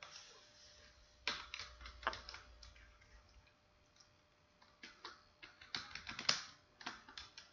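Typing on a computer keyboard while working in Excel, heard as close bursts of quick clicking keystrokes separated by short pauses, with no talking.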